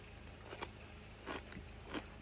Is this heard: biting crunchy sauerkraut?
yes